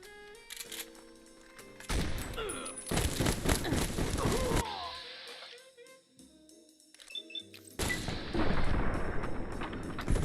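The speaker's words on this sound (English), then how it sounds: "Shoot the gun." Gunfire in the video game Fallout: New Vegas: bursts of loud gunshots and booming blasts come in clusters separated by quieter stretches with game music and effects.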